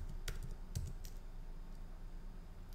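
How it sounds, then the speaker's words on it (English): Keys clatter on a computer keyboard as a customer's address is typed into scheduling software, a steady run of light clicks with a few louder taps, close and alone without speech. "Then you're going to type in their address."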